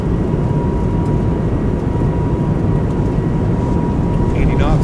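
Airbus A220 jet engines roar steadily at takeoff power in a flight simulator game, a loud, dense broadband rumble holding constant with a faint tonal whine riding above it.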